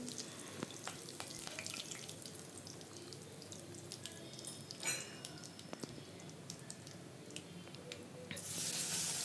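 Mustard and cumin seeds crackle in hot oil while tempering for a spinach dal, with scattered sharp pops and crackles over a low, soft sizzle, fairly faint and close.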